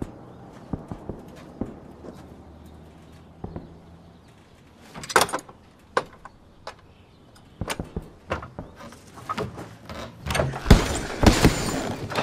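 A door bangs and rattles in sharp, uneven knocks and thuds over several seconds, growing louder and busier toward the end, with no talking.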